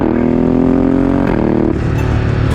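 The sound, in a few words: Ducati Multistrada 1260S V-twin upshifting with quick shifter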